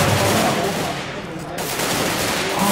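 Rapid gunfire in Counter-Strike: Global Offensive on de_mirage during a LAN match, a steady crackling burst of shots filling the whole moment, loud and close with no clear pauses.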